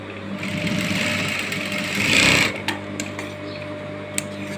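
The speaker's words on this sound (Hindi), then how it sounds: "दूसरी वाली पट्टी है इसको जस्ट इसके ऊपर इस तरह से घुमा के यहाँ पे एक सिलाई लगानी है" A sewing machine runs a steady whirring stitch along a fabric strip for a baby frock, swelling briefly louder before stopping, then a few light clicks and taps follow.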